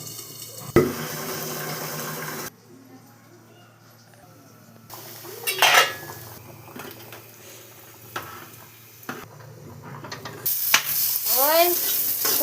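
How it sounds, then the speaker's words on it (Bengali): Green chilies frying in hot oil in a pan give bursts of sizzling and popping, with scraping and stirring sounds and a stretch of running tap water. The level rises and falls and grows busier toward the end. "এইবার আমরা কাঁচা লঙ্কাটা ভেজে নিচ্ছি।"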